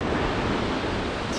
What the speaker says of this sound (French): Petit arrêt à la grosse cascade.